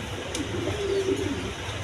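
Pigeons coo softly nearby, a low steady warbling call rising briefly over a constant hum of room noise.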